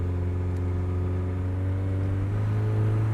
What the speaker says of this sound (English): The exhaust is a little bit louder than I remember